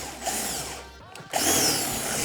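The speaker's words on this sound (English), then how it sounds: "Where did I put the power drill?" A power drill whirs loudly up close while enlarging a hole in a mat during fender extender fitting, pausing briefly before spinning up again with a steady high-pitched mechanical whine.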